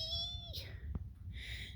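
A cat gives two soft, close meows with a pause between them over a low background rumble, and a short knock sounds at the end.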